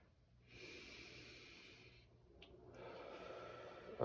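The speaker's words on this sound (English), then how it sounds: "2 more deep breaths and expand that rib cage and out." A patient's deep exhale during active cycle breathing chest physiotherapy, a long breathy rush of air that swells, eases, then resumes steadily and close up with no talk over it.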